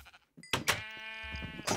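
A sheep in the video game Crafting Paradise lets out one drawn-out, quavering bleat after a few short game clicks, with a brighter burst closing it out.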